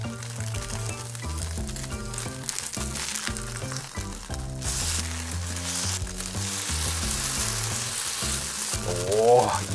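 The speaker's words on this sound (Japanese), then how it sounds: "形を整えながら焼いて、 良きところで裏返す。" A wakame snack frying in a pan, a steady close sizzle that continues beneath rhythmic background music and grows slightly louder toward the end.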